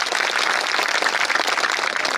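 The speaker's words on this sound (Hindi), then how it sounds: "जोरदार ताली" Audience applause at a Hindi comedy poetry recital by Bihari Lal Amber, a dense steady wash of many hands clapping continuously throughout, fairly loud with no talk over it.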